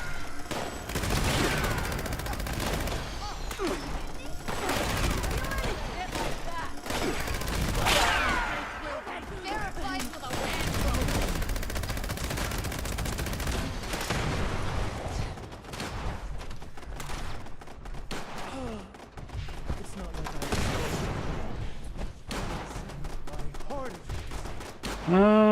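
Fallout 76 gameplay brings nearly continuous gunfire, dense rapid bursts and single shots packed together over the whole stretch, with a person talking through much of it.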